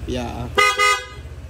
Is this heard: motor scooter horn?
yes